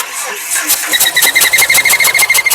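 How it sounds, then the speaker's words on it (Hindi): A Mahindra Scorpio diesel engine cranks briefly, then catches and runs with a fast, loud, pulsing chug. "जैसे आप लोगों ने देखा कि जब मैं सेल्फ मारा गाड़ी स्टार्ट भी हो गया"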